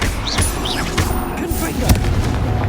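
A fire spell cast in Hogwarts Legacy, a burst of blasting whooshes and booms mixed with battle noise and sparkling magical tones, dense and continuous.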